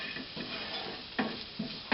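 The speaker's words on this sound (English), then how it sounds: "we're stir frying now, so we need to keep it moving" Vegetables for Chinese fried rice sizzle quietly in a hot pan while a utensil scrapes and knocks against it in brief, irregular strokes.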